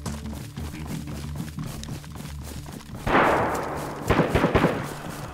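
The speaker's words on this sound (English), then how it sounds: "Oh my god, that sounds like three different guns." Several guns firing in DayZ during a chaotic airdrop fight, with a sudden loud burst near three seconds and a cluster of sharp cracks later, over a steady background of game ambience.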